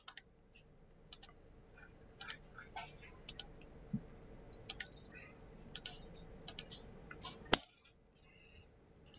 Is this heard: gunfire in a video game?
no